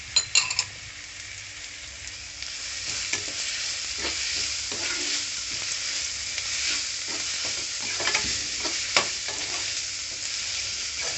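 Mutton pieces stirred in a hot pan with salt and turmeric, a steady bright sizzle of frying with repeated scraping strokes of a spoon and occasional metal clinks, close and continuous throughout.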